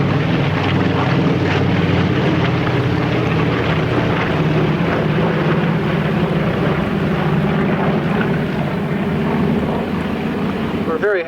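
WWII naval propeller aircraft such as the Wildcat, Avenger and Dauntless fly at the 2015 Virginia Beach airshow, producing a loud, sustained droning engine roar that stays steady throughout, with wind rumble mixed in.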